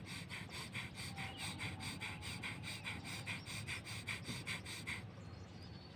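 Fast bhastrika pranayama: quick, forceful nasal breaths in and out at a brisk, even rhythm of about three per second. The breathing is close but soft, then stops, leaving faint room noise.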